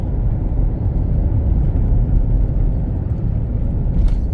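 A car engine rumbles loud and steady throughout as the vehicle pulls away near a rice mill in Yasothon, Thailand, with no voices over it.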